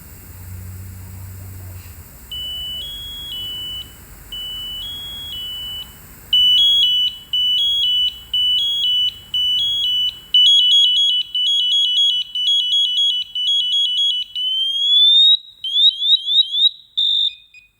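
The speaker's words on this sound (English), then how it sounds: "go ahead and wait for the pass alarm to go off" A firefighter's PASS (personal alert safety system) alarm beeps in short repeated pulses that grow louder and faster, ending in a rapid rising chirp pattern, loud and alone.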